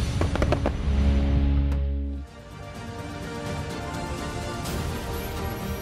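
Fireworks boom and crackle in rapid bursts, then a dense, ongoing rumble of explosions continues at a distance, in a fireworks display in Vietnam.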